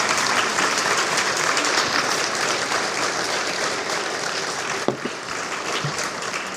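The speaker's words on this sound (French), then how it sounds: "Et si on l'applaudissait maintenant qu'elle est morte," An audience at a talk breaks into steady, dense applause. Many hands clap continuously and loudly in a full room, with no voices over it.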